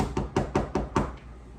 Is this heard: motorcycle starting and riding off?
no